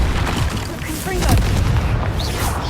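A Confringo spell blast booms out during combat in Hogwarts Legacy, a loud explosive burst with a rumbling tail, under a shouted voice.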